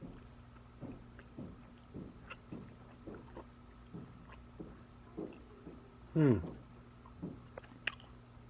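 Homemade dehydrated beef jerky with a Worcestershire or teriyaki flavor being chewed up close in a steady, rhythmic pattern of soft, moist bites, with one louder burst partway through.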